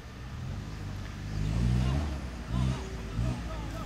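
A white Mitsubishi Pajero labours off-road over a crossing, its engine swelling and easing in a few pushes at moderate distance, with voices and crowd babble mixed in.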